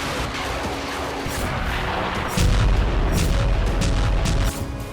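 Bombing explosions in Dnipro at night: a loud, deep booming burst rolls in partway through and rumbles on for a couple of seconds over a dense, noisy background.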